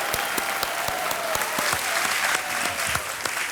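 A studio audience on a TV quiz show applauds in a dense, continuous burst, with sharper individual claps standing out through the wash.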